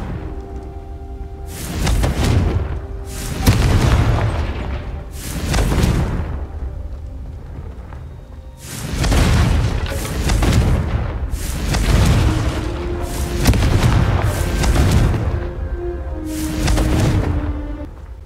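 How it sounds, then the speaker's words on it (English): Booming fire-spell explosions in the video game Hogwarts Legacy, several heavy blasts in quick clusters with rumbling tails over a steady background of game music and ambience. "The first time Ominous and I practiced Confringo, we singed our eyebrows"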